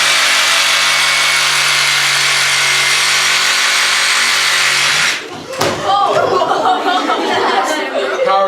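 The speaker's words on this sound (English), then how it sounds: "Power tools." A loud power tool cutting into a pumpkin grinds steadily for several seconds, then cuts off, followed by people chattering and exclaiming nearby.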